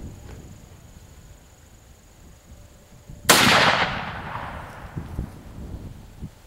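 A single sharp rifle shot rings out while the gun is being zeroed for windage, loud and close, with a long decaying echo rolling away across an open outdoor setting.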